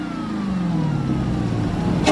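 A car engine runs at a car meet with a steady, loud droning note that slowly drops in pitch, close by, and ends in a sudden burst of noise.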